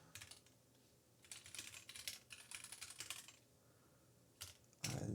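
Quiet bursts of clicking keystrokes on a computer keyboard while entering settings for a Docker share, irregular clusters of taps separated by short pauses, with a louder knock at the end.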